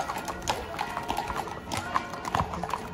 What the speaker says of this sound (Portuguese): eles levam os cavalos para ser abençoado pelo padre